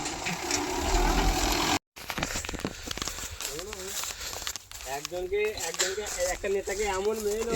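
Rice harvester machine threshing paddy: a loud mechanical drone fills the opening seconds, then someone talks over intermittent crackling and rustling of straw.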